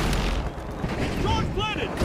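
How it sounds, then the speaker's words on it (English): A glitch grenade detonates in a video game firefight, giving a dense, sustained rumbling blast with warbling electronic tones rising through it near the end. "Using glitch grenade."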